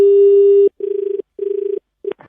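A telephone call is placed: a short dial tone gives way to repeated ringback buzzes, two clear rings followed by a brief click as the line connects, loud and close with no talking.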